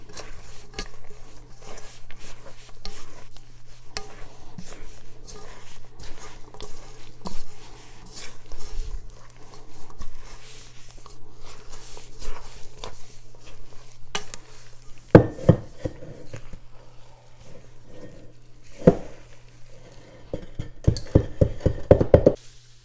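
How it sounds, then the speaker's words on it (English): A spatula stirs chopped pecans into soft orange icebox cookie dough, with soft scraping and irregular knocks against the bowl, quiet at first and then a burst of louder clacks toward the end over a low steady hum. "we're just gonna mix this in with the spatula"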